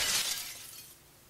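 Glass shatters in the stealth video game Gunpoint, a single crisp breaking burst with bright high-pitched debris that fades over about a second.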